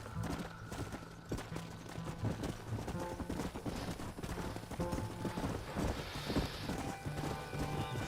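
Horse hooves pound in rapid gallop in the Red Dead Redemption video game, with steady clip-clop over layered game noise, a whinny, and a brief faint voice.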